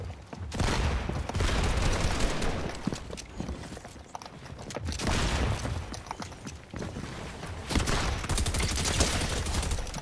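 Rapid bursts of gunfire crack in a shooting video game, dense and loud, with repeated volleys across the whole stretch and a brief lull midway, with no clear voices over the shots.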